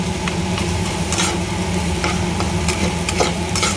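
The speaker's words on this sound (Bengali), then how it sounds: "বড়ি আর পোস্ত দিয়ে শাকটা বেশ কিছুক্ষণ টাইম আমি ভাজা ভাজা করে নেব" Red amaranth greens frying in a pan with lentil dumplings and poppy seeds, a steady close sizzle with faint stirring scrapes, alone without voices.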